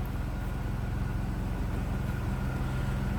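Stock 3.0 engine of a 1993 Chrysler LeBaron convertible runs smoothly at idle, a steady, even low rumble with a regular pulse close by, with no voices over it.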